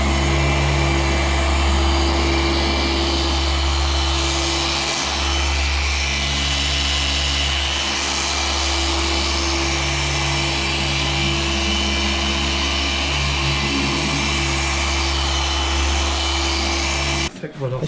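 A machine polisher buffs the paint of a Ford Sierra Cosworth with Roops coarse compound, a continuous close motor drone with a low hum, running for nearly the whole stretch before cutting off abruptly at the end.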